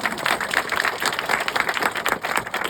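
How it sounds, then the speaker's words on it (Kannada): An audience applauds a sung poem at an evening music event, with dense steady clapping from many hands throughout, close and fairly loud, and no voices over it. "ಅಡಿಗರಿಗೆ ಒಂದು ಚಪ್ಪಾಳೆ."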